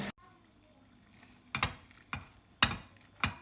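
A spoon scraping and stirring pav bhaji masala with butter or oil in a pan, a few distinct clanking strokes spaced irregularly over a quiet, faintly sizzling background.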